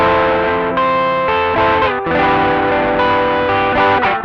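Electric guitar chords through an Ibanez TS9 Tube Screamer overdrive, all knobs at noon, play thick and loud, sustained with a warm gritty crunch and brief breaks between strums.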